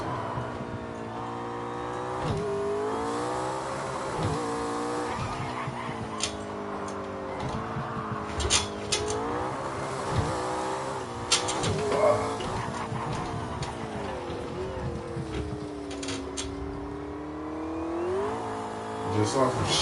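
A race car engine drones and revs in a racing video game, its pitch rising and falling steadily through gear changes and corners, loud and continuous with occasional clicks and bumps over the whole stretch.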